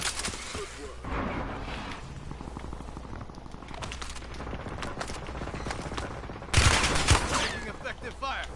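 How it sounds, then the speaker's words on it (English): Gunfire in Warzone: rapid automatic bursts and scattered shots crackling throughout, swelling into a louder close volley near the end, with voices speaking over parts of it. "Taking effective fire"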